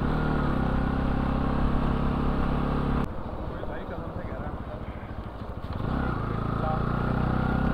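A Bajaj Pulsar NS200 motorcycle engine drones steadily at close range while riding, its tone shifting and dipping midway before rising again, with a muffled voice partly under it.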